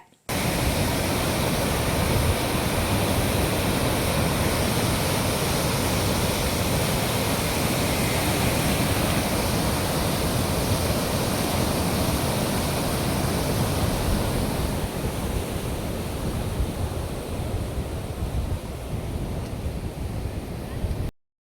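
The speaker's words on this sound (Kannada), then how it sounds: "ಭೀಮಾ ನದಿಗೆ ಮೂರು ಪಾಯಿಂಟ್ ಐದು ಸೊನ್ನೆ ಲಕ್ಷ ಕ್ಯೂಸೆಕ್ ನೀರು ಬಿಡುಗಡೆಯಾಗಿದೆ" The Bhima river in flood, water rushing past in a loud, constant roar that barely changes and eases slightly toward the end.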